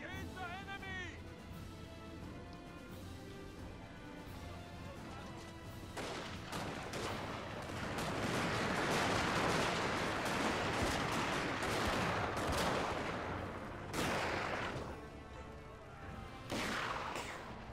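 Musket and rifle volleys from a Total War Shogun 2: Fall of the Samurai battle build into dense, continuous crackling gunfire with heavy booming bursts. The fire swells and fades over a low rumble, with voices underneath.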